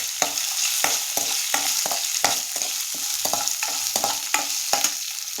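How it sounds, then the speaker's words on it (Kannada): Chopped onions fry with cumin and brahmi leaves in a pan, a continuous bright sizzle with regular spatula scrapes and taps every half second or so, close up and with no voices. "ಈರುಳ್ಳಿ ಕಟ್ ಮಾಡಿ ಇಟ್ಕೊಂಡಿದ್ನಲ್ಲ, ಅದು ಕೂಡ ಹಾಕ್ಕೊಂಬಿಟ್ಟು ಇದು ಕೂಡ ಫ್ರೈ ಮಾಡ್ಕೊಳ್ಳೋಣ"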